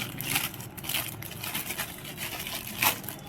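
Plastic packaging of a small replacement rear-view mirror for a Suzuki Access 125 scooter crinkles and crunches as it is unwrapped, with steady close rustling and a sharper crackle near the end.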